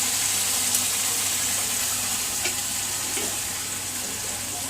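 Loud, continuous sizzling of a Punjabi tadka, spices frying in hot oil with greens added, crackling steadily throughout with no voices.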